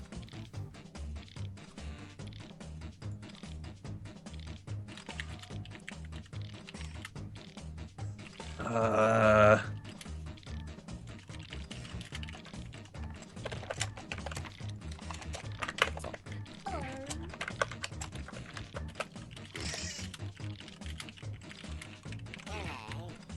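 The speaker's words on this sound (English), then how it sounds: "You typing a freaking essay there?" Fast typing on a computer keyboard clatters steadily and close by for a long stretch, in quick irregular bursts of key taps with a brief louder bump partway through.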